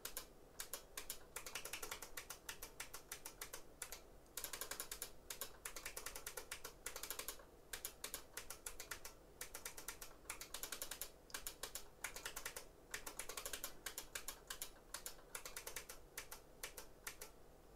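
Rapid, steady typing on a computer keyboard while working on a cheap PC fan controller, a dense clatter of close, crisp key clicks in short bursts with brief pauses, no voices.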